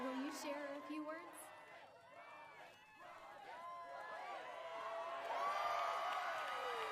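A crowd cheers in the animated series RWBY, volume 7, episode 6, "A Night Off". Many overlapping voices start subdued, then swell into louder, sustained cheering and whoops toward the end.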